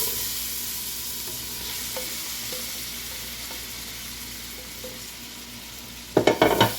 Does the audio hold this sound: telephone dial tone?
no